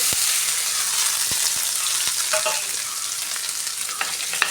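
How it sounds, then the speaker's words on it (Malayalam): Crushed coconut, chilli, garlic, cumin, turmeric and turtle berries fry in hot oil with a dense, loud, steady sizzle and a few sharp ticks from a stirring utensil, all close by. "ഇങ്ങനെ ഇട്ട് കൊടുത്ത് എണ്ണയിലേക്ക് ഇട്ട് ഫ്രൈ ചെയ്താൽ മതി"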